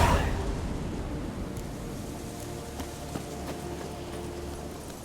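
Horse hooves clip-clopping in the video game The Witcher, a soft rhythmic trot under a rumbling ambient bed, after a brief loud burst at the very start.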